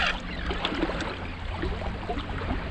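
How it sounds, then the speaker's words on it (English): An 18-foot Cape Craft boat runs on a 2-stroke 90 horsepower Mercury outboard, a low steady engine drone blended with water splashing and wind rush against the hull, with no talk. "now we're in an 18-foot Cape Craft powered by a 2-stroke 90 horsepower Mercury"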